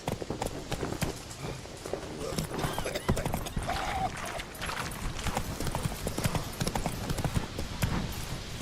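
Roach the horse galloping in The Witcher 3, hooves drumming in a steady, fast, loud clip-clop that runs throughout with game ambience and a brief snort.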